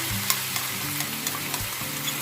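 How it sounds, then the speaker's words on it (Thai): Steady sizzling of chillies frying in hot oil in a wok, close and continuous, with light scraping stirs at intervals and no voices. "พริกลงกระทะมันก็หอมเลอะ"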